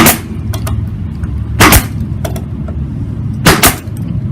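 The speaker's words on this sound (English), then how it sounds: "we can line up our staple gun and just follow that line" A staple gun fastening the back of a drawer to its bottom fires sharp, loud snaps in two quick pairs, with a quiet mechanical hum between them.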